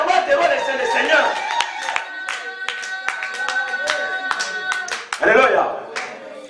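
Congregation in a French-language church service clapping steadily in rhythm, a dense run of sharp hand claps with voices calling out beneath, swelling into a louder burst of acclaim near the end.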